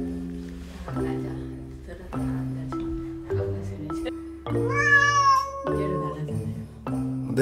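A cat cries at the front door of a home after moving, giving loud, drawn-out meows that rise into a long wail, while a person speaks alongside in Korean.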